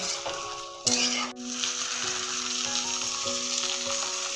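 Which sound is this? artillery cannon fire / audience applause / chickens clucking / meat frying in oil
meat frying in oil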